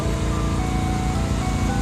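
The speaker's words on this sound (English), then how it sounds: "Now this is a real ice cream truck." An ice cream truck serving sundaes near Perdido Key, Pensacola, gives off a steady, loud, continuous drone of engine and machinery with no talking.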